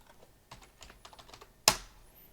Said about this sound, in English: So I'll just type that in.